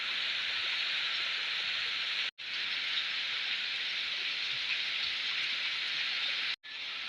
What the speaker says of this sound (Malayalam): നല്ല കാറ്റും മഴയാണ്